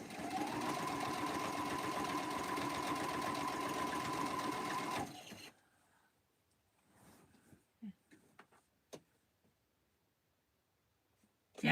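A sewing machine stitching quilt binding runs in a fast, steady whir for about five seconds and then stops, leaving quiet broken by a few soft clicks and handling taps.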